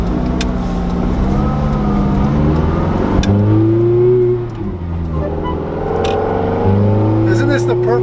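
A Ferrari F430 Berlinetta F1 pulls away in second gear, its engine note rising loudly and then dipping briefly before climbing again, with people talking inside the car over it.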